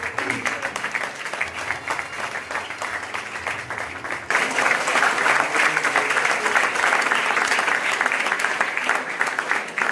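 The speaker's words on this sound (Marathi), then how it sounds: "जोरदार सर्वांनी टाळ्या वाजवायच्या आहेत." A crowd at a youth gathering claps loudly to honour a guest, dense steady applause that swells sharply partway through and stays strong to the end.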